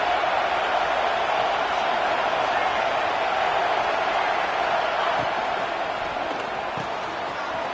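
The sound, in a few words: football stadium crowd cheering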